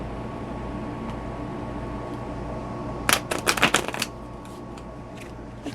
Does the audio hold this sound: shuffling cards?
yes